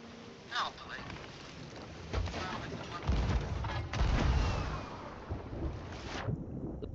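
Rumbling booms and muffled blasts of cannon fire in a game, several heavy thuds over a noisy wash, with some voices nearby.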